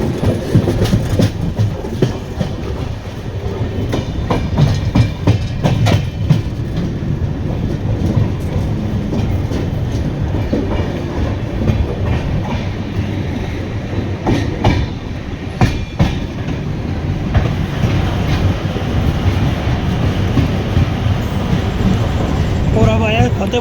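A train arriving at Fatehpur Shekhawati station platform rumbles and clatters steadily along the rails for a long stretch, with rhythmic wheel clicks and a voice talking over the noise.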